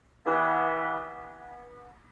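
A single minor chord struck at once on a piano-like instrument, ringing out clearly and slowly fading, with no talking.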